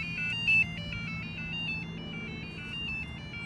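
A Losi Promoto RC motorcycle controller sounds its connecting signal: a repeating high electronic beep pattern in short regular pulses, fairly faint over a low steady hum.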